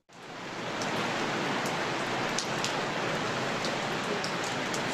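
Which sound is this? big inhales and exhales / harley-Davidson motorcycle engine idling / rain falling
rain falling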